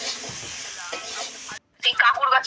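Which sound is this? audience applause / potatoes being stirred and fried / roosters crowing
potatoes being stirred and fried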